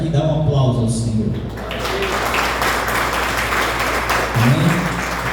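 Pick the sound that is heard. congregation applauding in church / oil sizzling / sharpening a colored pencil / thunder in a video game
congregation applauding in church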